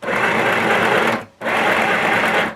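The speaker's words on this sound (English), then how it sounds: "I'm gonna back stitch back over that" A sewing machine back stitches over the start of a seam in blanket fabric, running in two loud, steady whirring bursts separated by a short pause.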